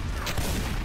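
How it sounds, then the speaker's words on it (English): Gunfire in the ET Armies video game: a dense burst of shots rattling over a low rumble, loud and close for under a second. "I'm shooting you"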